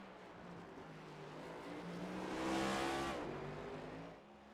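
Race car engine in iRacing during a virtual race at the Charlotte Roval, a steady droning engine that swells as a car passes close by, then fades, with no talk.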